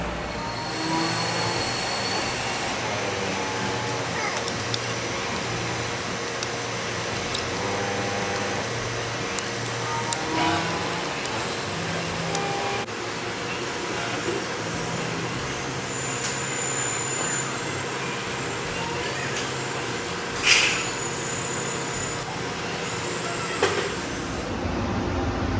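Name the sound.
machining steel with a WNMG 432 carbide insert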